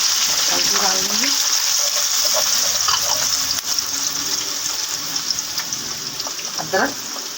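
Turmeric and spices sizzle in hot mustard oil in a pan, a loud continuous frying hiss with stirring scrapes and a voice talking over it.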